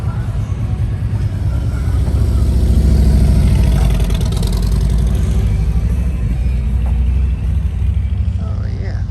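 Harley-Davidson motorcycles idle together at a crowded bike night, a steady low engine rumble filling the scene with occasional revs, while people talk nearby throughout.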